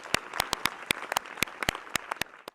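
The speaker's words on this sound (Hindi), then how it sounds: "तो एक बार जोरदार तालियों से उनका सभी स्वागत कीजिए।" A round of claps for a school chairperson at a panel discussion on higher education at Dhankhar Senior Secondary School: sharp, separate hand claps in an uneven rhythm from a small group, fairly close, with no talking over them.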